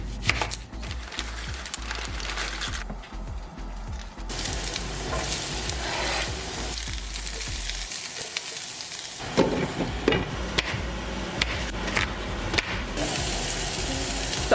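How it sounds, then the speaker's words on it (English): Red pepper, sweet onion and mushrooms sizzle and crackle in a hot pan, with irregular scraping and stirring clatter over a steady frying hiss that briefly dips before resuming. "first I'm just gonna cook some red pepper, some sweet onion, and then some mushrooms"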